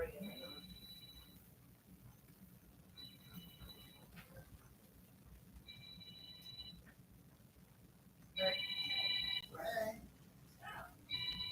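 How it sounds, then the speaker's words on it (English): A mobile phone rings in repeated short bursts of a high electronic tone, faint and indoors, with talking breaking in near the end. "My phone's ringing."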